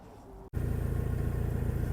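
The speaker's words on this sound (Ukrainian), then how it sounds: "Далі їде до нас тракторець середньої бази, трьохциліндровий Янмар F200 20 кінських сил." A three-cylinder Yanmar F200 mini tractor of about 20 horsepower idles and approaches at a tractor lot, a steady low engine thrum that jumps louder after a brief cut and stays close.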